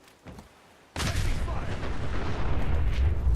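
A grenade explosion in Fallout 4 bursts in loudly, followed by sustained heavy gunfire and booming combat noise that continues without a break until the end.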